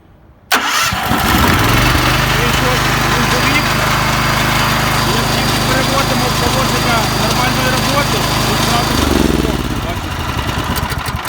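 Petrol generator started by push button: a brief starter crank, then the engine catches and runs loud and steady at close range before its pitch dips near the end.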